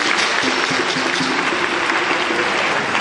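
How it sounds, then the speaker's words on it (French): Steady, dense audience applause fills the whole stretch at an official launch ceremony in Côte d'Ivoire, many hands clapping at once with a faint tonal hum beneath. "applaudissez Abdoulaye Diallo"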